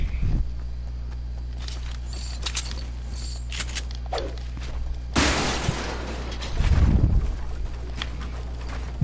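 A pickaxe in a video game strikes objects, giving sharp, brittle shattering cracks. The hits are scattered and moderately loud, with one strong crash midway over a steady low hum.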